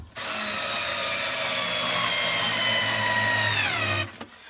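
A cordless power drill runs steadily for about four seconds while driving screws into the metal body of a Whirlpool top-load washer under repair, its motor whine holding even before stopping abruptly, close and loud with no talk.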